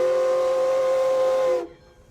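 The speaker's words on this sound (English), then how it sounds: "You know what the whistle signal for a road crossing is?" A train's steam-type whistle sounds one long, loud steady blast for a road crossing signal, holding for about a second and a half before cutting off sharply, leaving only faint background.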